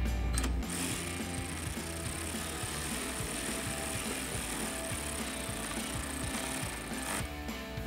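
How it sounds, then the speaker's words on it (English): A 10 mm socket wrench tightens bolts at the front wheel well of a Jeep Gladiator JT, giving a steady run of quick mechanical clicks with no talk over it. "And with that 10 millimeter socket, tighten it down."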